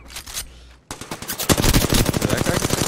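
Rapid automatic gunfire in a battle royale video game firefight, a short burst followed by a dense, loud sustained stream of shots with a brief gap between.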